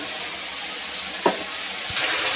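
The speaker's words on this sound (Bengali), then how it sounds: "কপিটাও আমি এর মধ্যে দিয়ে দিচ্ছি, দিয়ে আমি একসঙ্গে ভেজে নিচ্ছি" Cauliflower and potatoes frying together in a pan give a steady, close sizzle throughout, with one brief sharp clink partway through and a slight rise in the hiss near the end.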